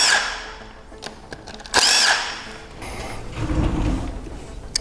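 A power tool whirs in short, sharp bursts while backing out valve cover bolts on a Titan engine during repair, then settles into a lower, rougher spinning rumble, close and fairly loud.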